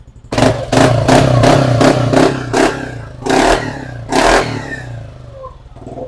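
Yamaha Aerox scooter, after repair of a no-start fault, fires up and revs in a series of sharp bursts over a steady close idle, with several short throttle blips before the engine settles.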